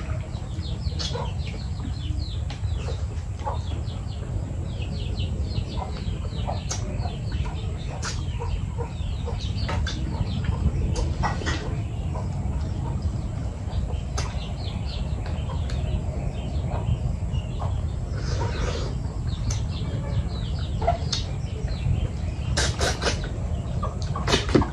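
A stray chicken clucks in short, scattered bursts over a low outdoor rumble, fairly close, with a few sharper calls spread across the length.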